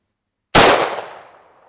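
A single loud, close shot from an AK-47 rifle firing a 7.62x39 round into sandbags outdoors, an abrupt blast after silence that decays over about a second.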